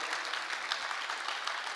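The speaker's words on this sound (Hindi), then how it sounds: "मेरे भाई के लिए एक बार जोरदार तालियां और बजा दीजिएगा" Audience at a Hindi poetry event claps steadily, a close, even patter of many hands at moderate volume that continues throughout without voices.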